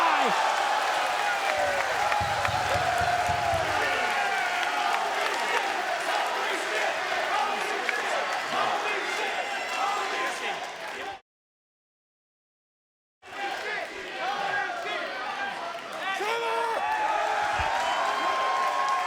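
A live wrestling crowd in Orlando roars and applauds during a four-way opening match, a dense sustained wash of cheering that drops out briefly before resuming, with commentary talk blended underneath.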